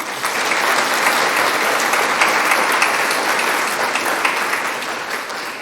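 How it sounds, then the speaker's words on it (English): Loud, sustained audience applause at a scholarship selection banquet, many hands clapping in an even, dense roar that holds steady and tapers slightly at the end. "Another round of applause for us."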